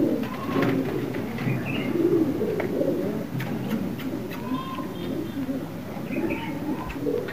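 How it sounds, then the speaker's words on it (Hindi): Pigeons coo steadily close by as several are let out of their loft, with soft chirps and wing flutters layered over the low rolling calls. "चार पांच कबूतर इधर से निकाल रहे हैं।"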